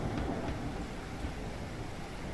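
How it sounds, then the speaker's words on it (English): Heavy rain and wind pour down during a storm in the video game Deadhaus Sonata, a dense steady roar with a low rumble underneath, with no speech. "Very heavy dark rains going on right now. Windy storms."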